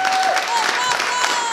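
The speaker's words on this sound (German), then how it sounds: "ich bitte um einen riesengroßen Applaus" Audience applause at a live stage event in Berlin, a dense, even wash of many hands clapping that fills the whole short stretch, with voices mixed in.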